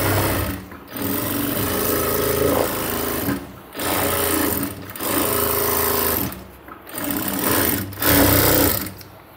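A sewing machine runs in several loud bursts of rapid stitching, sewing a double seam on a cargo half pant, with short pauses between runs.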